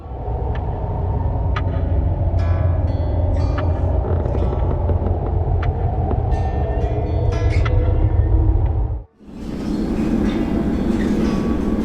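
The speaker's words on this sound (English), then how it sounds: "There's also the Manitou and Pikes Peak Railroad, the world's highest cog railroad based in Manitou Springs" The Manitou and Pikes Peak cog railway train in Manitou Springs, Colorado, a loud, steady rumble of wheels and cars with faint clanks and squeals, cutting out sharply near the end before a hissing rush resumes.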